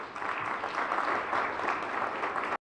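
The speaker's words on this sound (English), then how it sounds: "A round of applause for our team." A crowd applauds Team Botswana with steady, even clapping that stays continuous and moderately loud for a couple of seconds before cutting off abruptly.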